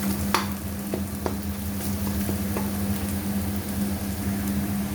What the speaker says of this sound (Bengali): দেখেন আমার পেঁয়াজটা ভাজা হয়ে গেছে, ব্রাউন কালার হয়ে গেছে আমার পেঁয়াজটা